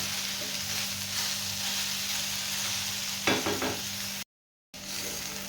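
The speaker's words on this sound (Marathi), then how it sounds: "आता झाकण न लावता तीन ते चार मिनटं आपण असंच भेंडी शिजवून घेऊया" Okra sizzling and frying in an uncovered pan over a medium flame, a constant close crackle with a brief stir partway through, then a short gap of silence.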